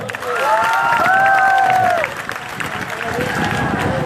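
Audience at a live stage performance clapping and cheering, a steady crowd roar with a few whistle-like shouts rising above it for about two seconds, then settling into lighter applause.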